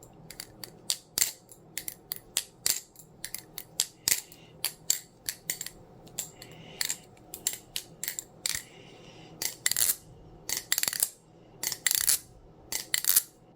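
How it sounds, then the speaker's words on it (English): White Replicant balisong butterfly knife being flipped, a steady run of sharp metallic clicks and clacks in irregular bursts, close and fairly quiet, with no voices. "Here's the sound test for the new white Replicant."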